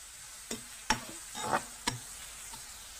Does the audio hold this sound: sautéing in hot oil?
yes